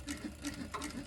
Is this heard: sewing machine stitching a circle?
yes